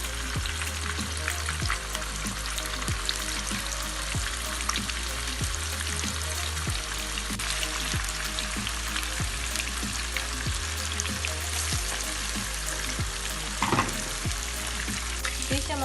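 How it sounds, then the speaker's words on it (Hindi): Fish pieces fry in hot oil for a fish korma, giving a loud continuous sizzle, with occasional stirring clatters and a splash near the end. "अब इसमें हम फिश के पीसेस डालेंगे और इसे हम अच्छी तरह फ्राई"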